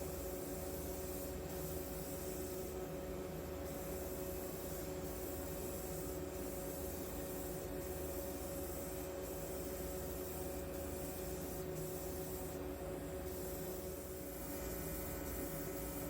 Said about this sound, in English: For this coat, I'm starting to spray a little bit heavier, and I have the gun just a little bit closer to the body